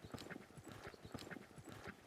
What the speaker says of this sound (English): Now I'm doing a gymnastic exercise called counter cantering.